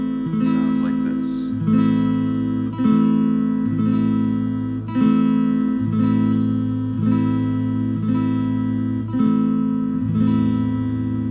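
A guitar chord strummed again and again by a beginner, about every second and a half, with each ring holding steady before the next strum and faint finger noises in between.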